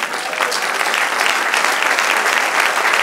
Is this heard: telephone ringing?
no